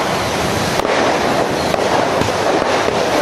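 Gunfire from soldiers at military shooting practice, sharp reports cracking out at irregular intervals over a dense, roaring outdoor background, loud and fairly close throughout.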